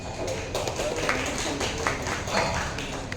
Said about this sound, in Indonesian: Tepuk tangan untuk acara ini